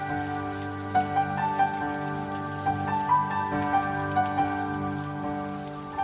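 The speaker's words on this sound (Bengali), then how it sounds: "আবার জোরে বৃষ্টি পড়ছে, পুরো কাদা প্যাচপ্যাচে হয়ে যায়।" Heavy rain pours down in a steady patter of drops striking surfaces, mixed with sustained tonal background music and scattered louder splashes.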